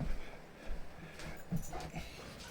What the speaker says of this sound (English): Can you take the dog?